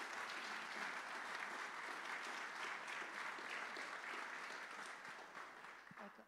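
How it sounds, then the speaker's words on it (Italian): An audience at a literary award ceremony applauds the jurors with steady, sustained clapping that tapers off near the end, heard from a little distance. "facciamo un applauso a questi giurati"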